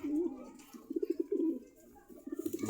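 Racing pigeon cooing in a loft, a series of soft, throaty burbling coos close by, in short bursts with a brief pause between them.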